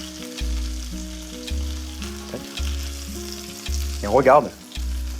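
Loach fillet browning in a hot frying pan, a steady close sizzle under the cook's brief speech, with a short scraping stir near the end.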